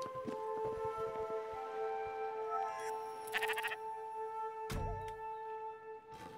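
Video game sheep in Spiritfarer lets out short bleats over a quiet, steady musical background, with small chimes and game effects scattered between them; no talking.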